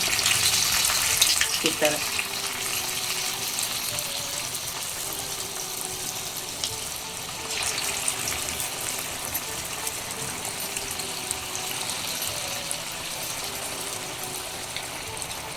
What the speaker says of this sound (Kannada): ಫಸ್ಟು ನೀರು ತಗೊಂಡು ಸ್ವಲ್ಪ ಸ್ವಲ್ಪ ಬಿಡಬೇಕು